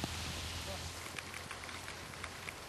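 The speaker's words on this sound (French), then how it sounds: "Pluie, grêle, froid, la totale dès le premier jour." Rain and hail pelt down during a long-distance group cycling ride, a dense, continuous hiss of drops striking surfaces, close and fairly loud throughout.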